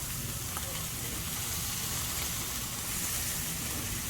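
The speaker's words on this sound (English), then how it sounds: "it's time to sear the fat cap" Picanha fat cap sears on a grill: a steady, even sizzle and hiss that stays constant from start to end, with no talk.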